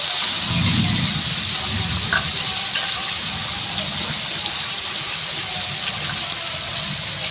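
A medium onion fries in hot oil with tempering spices for a potol and shrimp curry, giving a steady, close hiss of sizzling that holds evenly throughout with no talking.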